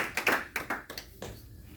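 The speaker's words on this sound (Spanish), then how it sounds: "Dale un aplauso a Dios." A church congregation applauds, a dense burst of clapping close by that fades out over about two seconds.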